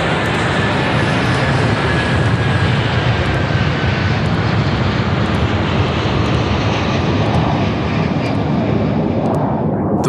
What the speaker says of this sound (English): the Airbus A330, loaded with over 47 tons of fuel, left Toronto for Lisbon.